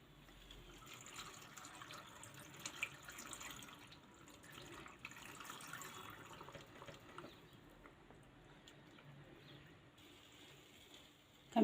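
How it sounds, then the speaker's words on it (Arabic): Water pours steadily into a glass jar of beetroot pickles, a soft, continuous trickle and splash close by that runs for several seconds, with faint handling noises and no talk. "هنبتدي نحط الميه دي كده"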